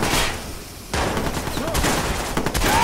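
Rapid bursts of automatic gunfire in the Watch Dogs video game during a prison break, sustained loud fusillade crackling close by, with shouting voices mixed in.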